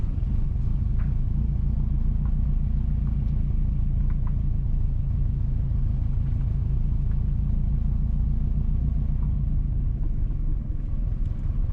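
A car drives along a rural road in Nonsuch, St. Mary Parish, Jamaica, with a steady low engine and road rumble throughout and a few faint light clicks and rattles.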